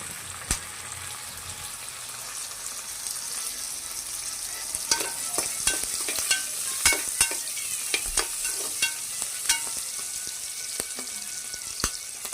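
Tomatoes and green chilies fry on a low flame, a continuous sizzle broken by repeated sharp spoon scrapes and taps against the pan, growing busier in the second half; no talking.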